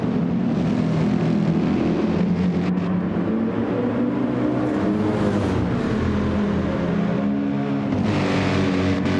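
GT3 race cars, including a Viper, BMW, Ferrari and Porsche, roaring continuously along a long straight, loud engine drone with shifting pitch as cars pass, no talk.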